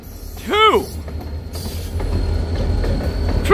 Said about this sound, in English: 3 beautiful locomotives.